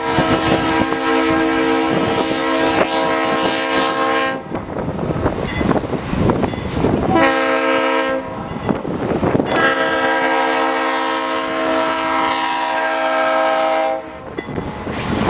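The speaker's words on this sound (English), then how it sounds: "we spotted a B40-8W Duo by complete surprise" A train hauled by B40-8W locomotives sounds its horn in loud, sustained blasts with short breaks between them, heard nearby over the rumble of passing rail cars.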